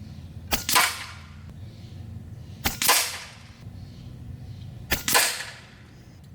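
Three sharp shots from a Stoeger XM1 BullShark 27-inch mini bullpup PCP air rifle firing FX Atomic 15.9 grain pellets, spaced about two seconds apart, each a crisp crack with a short, bright tail in an otherwise quiet setting.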